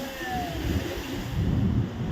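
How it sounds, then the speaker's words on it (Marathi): Ocean waves wash in at Anjarle Beach, a low rumbling roar of surf close by with wind buffeting the microphone, swelling slightly toward the end. "ही लाट आता इथपर्यंत पाणी येईलच असं मला वाटतं"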